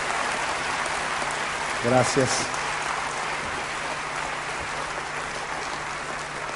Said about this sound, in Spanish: Den un aplauso al Señor Jesucristo en esta mañana.